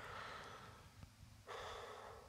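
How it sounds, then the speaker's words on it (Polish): A character breathing heavily in the video game Space Mechanic Simulator, a close, noisy gasp followed after a short pause by another loud breath, with no talk over it. "Ten jak mi tutaj dyszy do ucha."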